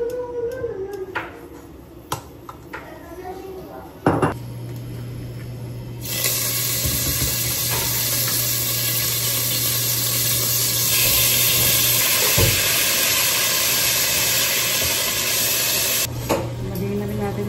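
Oil going into a hot pan sets off a loud, steady hiss after a clank, holding for about ten seconds before easing off, close to the pan.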